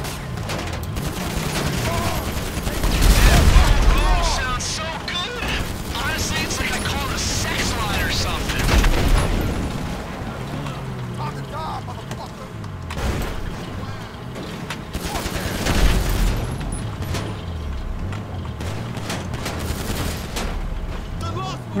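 Heavy gunfire and explosive booms from the game GTA 5 Online, a dense, loud barrage in bursts with louder peaks, set in snowy missions, with a voice talking over it.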